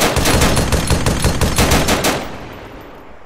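Rapid automatic gunfire in a video game rattles loudly and close for about two seconds, then cuts off, leaving a fading echo.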